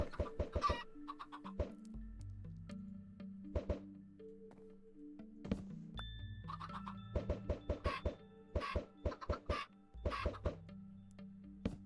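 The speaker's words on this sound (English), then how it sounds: "I mostly wanted the little like chickens clucking sound going on in there." Chickens clucking in Minecraft, a run of short, clipped game clucks that start and stop in bursts, layered with blocky footstep and interface sounds and a few low thuds.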